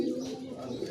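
A pigeon coos in one brief, low, throaty call, close by and unaccompanied.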